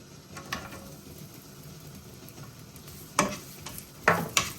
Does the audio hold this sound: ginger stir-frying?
yes